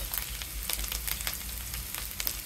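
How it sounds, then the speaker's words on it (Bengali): Ground spice masala of coriander, turmeric and chilli powders sizzles in hot oil for a spicy chicken pulao, a steady crackling hiss with small pops throughout, close and alone. "সামান্য জল দিয়ে কষিয়ে নেব মশলা।"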